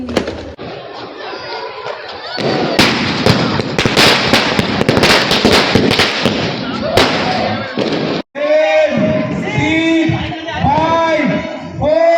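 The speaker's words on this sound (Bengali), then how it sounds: "আমাদের এখানে দেখতে পাচ্ছ বাজি ফাটছে অনেক" Fireworks and firecrackers burst in dense, rapid volleys at a New Year party, loud and close, with crackling pops and thuds; voices chatter over them, and the bursts give way to people talking near the end.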